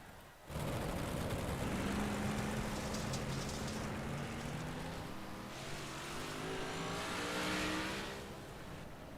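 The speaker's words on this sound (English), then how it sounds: "Got some cars out here in the track." Race cars circle a track, engines droning and rising in pitch as they accelerate, heard from a distance as a continuous layered roar with one or two cars standing out as they pass.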